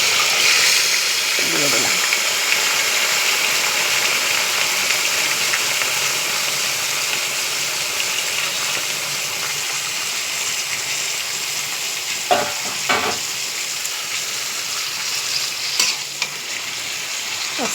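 Marinated mutton added to a pan with potatoes for a mutton curry fries with a continuous loud sizzle and hiss, with stirring scrapes and clatters scattered through; a voice speaks briefly near the start.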